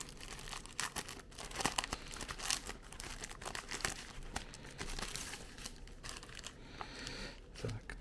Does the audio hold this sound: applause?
no